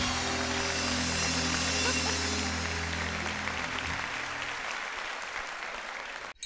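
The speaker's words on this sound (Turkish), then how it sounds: "Konuklarımıza toplu bir alkış alalım." A studio audience at a Turkish TV talk show claps together in sustained, dense applause that fades out near the end.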